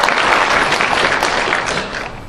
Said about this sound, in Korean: 민경석 교수님 우선 박수로 맞이해주시기 바랍니다